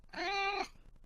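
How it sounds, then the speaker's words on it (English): A single cat gives one clear, drawn-out meow, close and loud, lasting about half a second before fading into quiet. "It's a cat."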